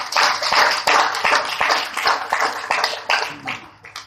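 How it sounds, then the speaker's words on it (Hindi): A crowd at a public speech event in Khutauna, Bihar, bursts into loud applause, dense continuous clapping close by that tapers slightly toward the end, with no speech over it. "उनके एक बार जोरदार तालियां बजा दीजिए"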